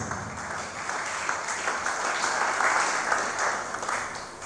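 A church congregation clapping: a soft, continuous hiss-like wash of many hands, swelling slightly toward the middle and staying fairly distant and even throughout.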